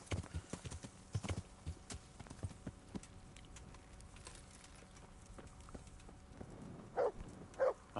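Horse hooves in the video game Kingdom Come: Deliverance clip-clop in an irregular patter over a faint background, followed by a couple of louder thuds toward the end.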